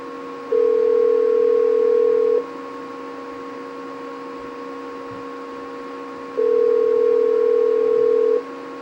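An outgoing telephone call ringing out: two long, steady ring tones several seconds apart, clear and loud over a quiet line.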